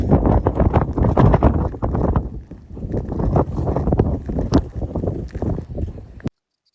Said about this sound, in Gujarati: અહીં પવન પણ બહુ આવતો હતો અને લાગતી હતી ઠંડી